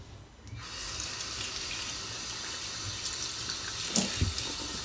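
Plums being washed under a running kitchen tap: water switches on and pours steadily into the sink, with a few louder splashes and knocks as the fruit is handled.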